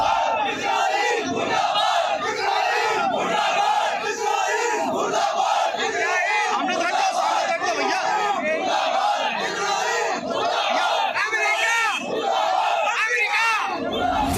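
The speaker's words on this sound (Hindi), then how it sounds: "इजराइल और अमेरिका के खिलाफ मुर्दाबाद का नारा लगाने वाली ये भीड़ लखनऊ की है" A large crowd in Lucknow chants slogans against Israel and America, loud rhythmic shouting that carries on throughout.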